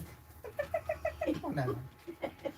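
A chicken clucks in a quick series of short, pulsing calls, fairly close but quiet, with a brief pause before a few more clucks at the end.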